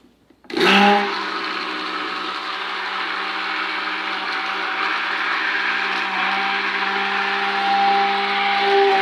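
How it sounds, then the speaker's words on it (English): A stick blender switches on with a clunk and runs steadily at high speed blending melted palm oil for soap, a loud continuous whirring drone that holds for several seconds. "Now I'm going to grab my stick blender"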